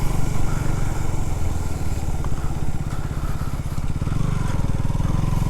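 A KTM Duke 200 motorcycle on its first ride, the engine droning steadily and loudly up close with a pulsing low rumble and wind noise, no break throughout.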